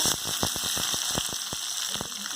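Blood fry sizzles in a pan with onions, a crackling, rain-like patter of small pops and spits that stays close and fairly even throughout.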